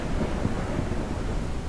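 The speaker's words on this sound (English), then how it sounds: "the rain effects in this game were loud. The thunder actually scared me." In the video game Forever Skies, rain hisses steadily and thunder rumbles low, a dense, loud wash of storm sound over a short stretch with no clear crack.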